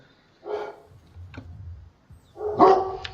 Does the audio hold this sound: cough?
no